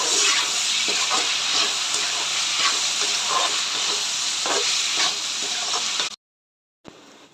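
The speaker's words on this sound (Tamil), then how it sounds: "இந்த தக்காளி நல்லா வதங்கட்டும்" Tomatoes sauté in a pan with salt and turmeric for a Tamil-style fish curry, giving a loud, steady sizzling hiss with occasional stirring scrapes that cuts off abruptly near the end, then resumes briefly.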